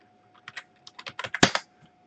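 Typing on a computer keyboard: a short run of about a dozen crisp, close key clicks in an uneven rhythm, ending with one heavier keystroke, with no talking.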